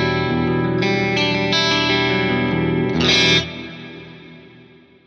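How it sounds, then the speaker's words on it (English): Electric guitar chords ring through a reverb effect with modulated, chorus-like tails and a dark decay shaped by a high-cut filter. They sustain for about three seconds, swell once near the end, then fade into a soft wash. No voices are heard. "So this particular reverb has these lovely modulated tails to it."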